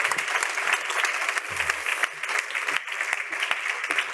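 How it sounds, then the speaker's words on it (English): Audience applause after a fireside chat on patient experience, continuous clapping from a seated crowd, moderately loud and steady with a few brief low thumps. "Round of applause, everybody."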